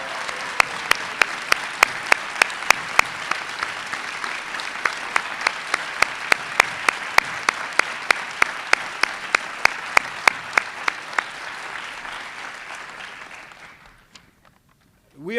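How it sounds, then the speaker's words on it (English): A large audience applauds warmly and steadily for the families of swimmers Katie Ledecky and Jack Conger, a dense sustained clapping with a few sharp louder claps, fading out near the end. "give them a round of applause for their great work as well"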